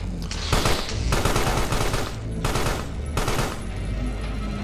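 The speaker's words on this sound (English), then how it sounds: "Oh, I like that they're still shooting up." Enemies in the video game Carrion fire loud, dense bursts of automatic gunfire, with rapid rattling volleys that stop and restart several times over a steady game background.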